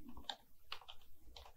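Quiet clicks of a computer keyboard as a few keys are typed, sparse short taps heard close in an otherwise silent room.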